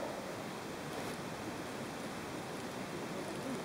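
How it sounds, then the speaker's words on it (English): Water runs in a brook inside Coon Hollow Cave in Lanesboro, Massachusetts. It is a steady, hissing, broadband rush with no pauses, heard alone. "I hear water running."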